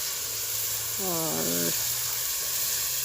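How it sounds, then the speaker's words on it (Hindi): Oil tadka sizzles in a cooking pot (handi) with onions, a steady close hiss running under a woman's speech in Hindi, with a brief burst of frying crackle in the middle. "और अब मैं हांडी को तड़का लगा रही हूँ।"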